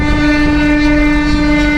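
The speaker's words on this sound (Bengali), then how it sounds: "সাইড দিয়ে ট্রেন যাচ্ছে, আওয়াজ পাওয়া যাচ্ছে।" A train passing alongside the road at dawn sounds a loud, steady horn blast that holds unbroken and close throughout.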